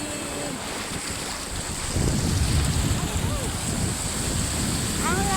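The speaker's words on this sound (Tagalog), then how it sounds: "Hindi nyo masyadong marinig yung sinasabi ko kasi malakas ang alon." Loud ocean waves wash and roar at a beach with strong wind buffeting the microphone, the surge swelling midway, with faint voices in the background.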